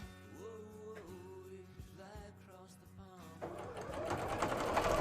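Sewing machine stitching cosplay fabric, a steady mechanical whirr running close and continuous, with brief pauses and a busier, louder burst of stitching near the end.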